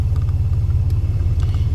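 A car engine on flex fuel, run by a MicroSquirt ECU with no idle air control, idles steadily with a deep, even low rumble and no voices.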